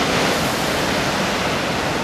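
Ocean waves breaking on the beach at Anglet in cool conditions, a steady, loud, broadband wash of surf that holds close and continuous throughout with no voices.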